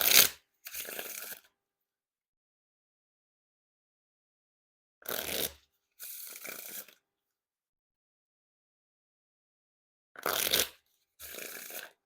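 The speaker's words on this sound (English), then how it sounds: "And now time for a wiffle shuffle or bridge shuffle." A deck of Warrior Women playing cards by Headless Kings gets riffle shuffled three times, each a crisp burst of flicking cards followed by a softer cascade as they bridge together, with long quiet gaps between.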